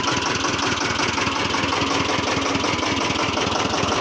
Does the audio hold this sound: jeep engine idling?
yes